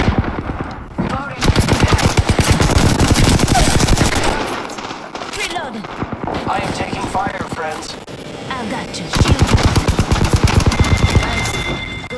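Loud, rapid automatic gunfire in the battle royale game Apex, sustained rattling bursts with brief pauses between them, with game voices talking over the shooting.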